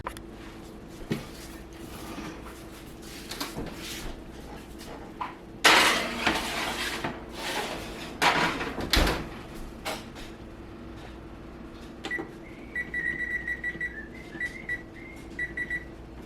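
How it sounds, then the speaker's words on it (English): A metal baking tray of sausage balls is slid into an oven with clanks and scraping, followed by a loud rattle, the door thudding shut, and then a series of electronic beeps from the oven controls. "we're gonna put these in the oven"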